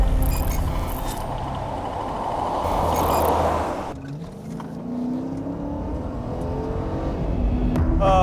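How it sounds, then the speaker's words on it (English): A car speeding southbound on highway 75 at about 96 mph, with a loud, roaring engine and tire rush close by that sweeps past, dips, then returns with rising engine whine. "So we got a vehicle traveling southbound here on 75 at approximately 96 miles per hour."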